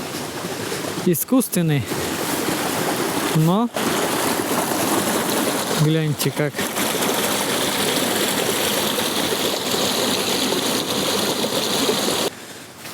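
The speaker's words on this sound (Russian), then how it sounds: "Ой, еще водопад." Constant broadband rush of an artificial waterfall in the Nikitsky Botanical Garden in Yalta, a steady close splashing roar running throughout beneath a man's occasional speech.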